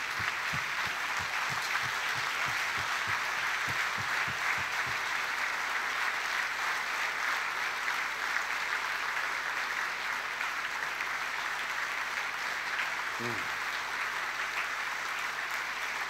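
A congregation applauds at a funeral service, dense sustained clapping from a large crowd filling the room, with a few low thumps early on and no clear speech.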